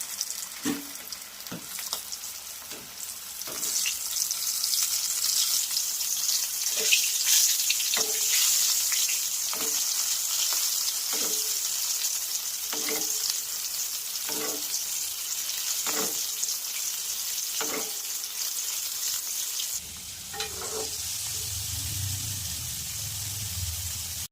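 Food frying in oil over a medium flame gives a steady, close sizzling hiss with regular crackles. Near the end a low, bubbling rumble joins in.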